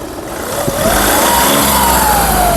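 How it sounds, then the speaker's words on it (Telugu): A 2013 Volkswagen Polo Highline engine revs up, its pitch climbing and holding steady at a high, loud level with no talking over it. "ఇంజన్ నాయిస్ కూడా పర్ఫెక్ట్గా ఉంది రేజీ ఒకసారి"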